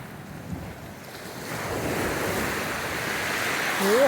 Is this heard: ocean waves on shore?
yes